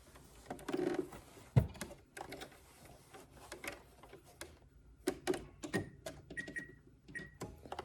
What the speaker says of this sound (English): And I'm going to zigzag stitch all the way around.